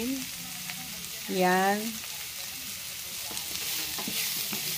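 Food being stirred and mixed in a frying pan over heat, a constant sizzle with scraping of a utensil against the pan; someone speaks a single short word, and there is a brief tonal sound partway through.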